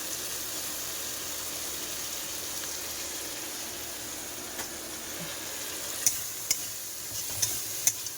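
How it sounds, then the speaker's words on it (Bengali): Curry with cumin and chili powder sizzles softly in a pan, and a low frying hiss carries through. A few sharp clicks of a spoon against the pot sound near the end. "কষাই করবো এবার তরকারি।"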